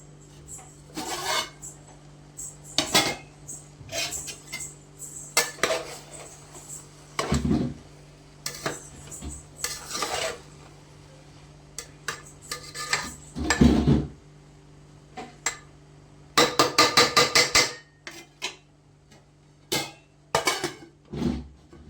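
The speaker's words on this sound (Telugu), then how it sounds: "ఇప్పుడు ఒకసారి మళ్ళీ కలుపుకుందాం." Chicken fry being stirred in a cooking pot, with repeated scraping and clattering strokes of a utensil against the metal that come in irregular bursts, close and fairly loud, with quieter gaps between them.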